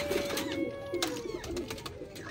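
Pigeons, including a black pigeon hen, coo softly in a breeding loft, low murmuring calls repeating over a faint background hum with occasional higher chirps.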